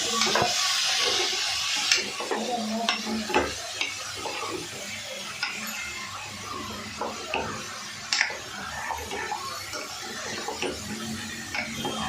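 Ingredients for kara kuzhambu sauté in a pan, a steady soft sizzle broken by scraping stirs and light clinks of a utensil against the pan, close by and moderately quiet, with no talking.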